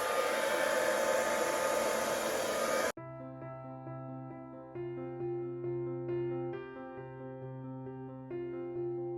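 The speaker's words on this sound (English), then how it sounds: "I can still blow this out with the hairdryer" A hair dryer blasts loudly and steadily for about three seconds over a fluid acrylic pour painting, then cuts off abruptly, leaving quiet tonal humming with soft repeated pulses.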